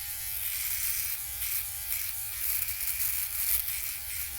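A Philips OneBlade electric shaver buzzes steadily and close up while working through thick, coarse neck hair, its hum wavering slightly as it drags.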